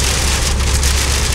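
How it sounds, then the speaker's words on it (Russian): Freezing rain of tiny ice pellets falling in Solnechnogorsk, a dense, loud, steady hiss of pattering with no breaks and no voices. "Это не град нифига, это такие вот, типа, мелкие льдинки. Мелкие-мелкие."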